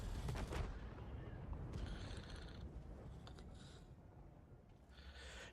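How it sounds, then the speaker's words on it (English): Booming artillery blasts and rumbling impacts in World of Tanks, a dense run of heavy explosions with mechanical creaks, loud and close, with little or no talk. "my allies came through with some sort of artillery attack, or maybe it was an SPG"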